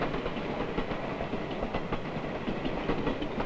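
Super Chief passenger train speeding along at high speed, a steady dense rumble and rattle of rail cars with faint rhythmic clicking, continuous and close throughout.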